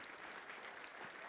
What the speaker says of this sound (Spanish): Si ha sido así, dése un aplauso usted mismo.